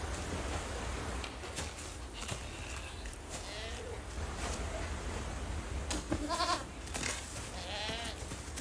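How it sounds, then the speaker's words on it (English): Baby goats bleat now and then against a steady background hiss, short wavering cries rising at intervals, one cluster near the end louder than the rest. "Baby goats, they're so cute."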